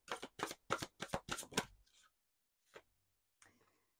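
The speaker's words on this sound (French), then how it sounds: "on va prendre quelques cartes de l'oracle Divinange." Oracle cards from the Divinange deck are shuffled up close in a quiet room, with about seven quick riffling bursts in a row, then a few soft isolated card taps and slides.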